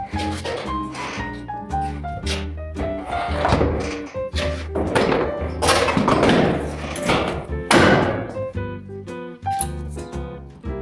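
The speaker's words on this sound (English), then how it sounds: "And now finally reinstall the seat again." Heavy thunks and thuds of a seat being refitted on a Maverick with a broken drive belt, a few solid knocks spread over about ten seconds under steady background music.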